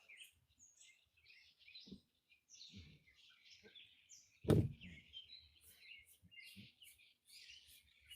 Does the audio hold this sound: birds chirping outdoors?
yes